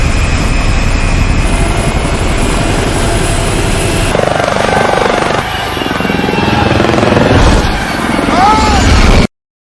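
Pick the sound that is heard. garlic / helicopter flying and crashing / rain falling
helicopter flying and crashing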